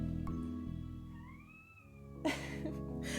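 A needy pet cat gives a thin, wavering meow, faint and somewhat distant, followed by a burst of brief rustling noise over a steady low hum.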